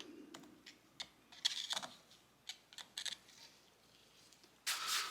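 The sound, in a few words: clicking of a part seating in a KX250F rear shock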